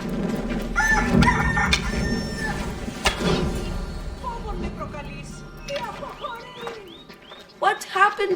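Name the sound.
chicken clucking in Assassin's Creed Odyssey video game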